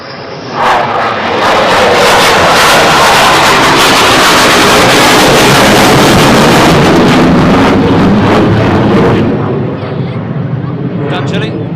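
Loud, close roar of an F-35 jet flying overhead at RAF Lakenheath, a broad rumbling blast that swells quickly, holds at full strength for several seconds, then fades away with a lingering hiss.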